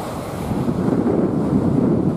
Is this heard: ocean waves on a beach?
yes